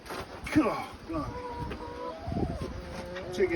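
Chickens being settled into a coop in the French countryside cluck and squawk close by in bursts, with a person talking among them.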